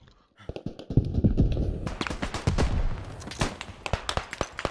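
Frag grenade detonation in the World War I shooter Beyond The Wire, a loud burst amid rapid battlefield gunfire and sharp impacts that keep crackling for several seconds afterward.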